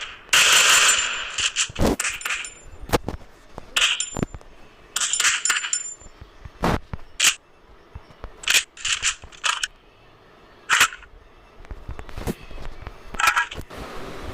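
Gunfire from the VSS and Groza in the video game Free Fire, with sharp bursts and single shots plus metallic clicks and clanks from the game's weapon handling, separated by short quiet gaps.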